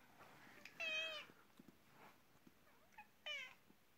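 A cat meows twice, two short, quiet, close cries separated by a few seconds of near silence with soft faint rustles between them.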